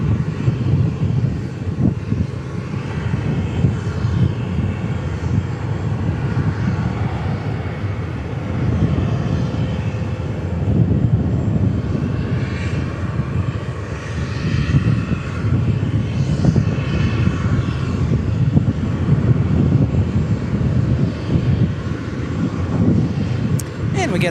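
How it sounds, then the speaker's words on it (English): A Boeing 737-800 airliner takes off at DFW Airport, its loud broad jet engine roar sustained and steady from start to end, with someone talking over it at times. "Meanwhile, we've got this 737-800 taking off."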